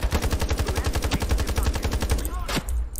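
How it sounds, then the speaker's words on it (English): Rapid automatic gunfire in the video game Iron Sight, a loud, steady stream of close shots for about two and a half seconds, then a final burst and trailing echo. "I shot my own teammate."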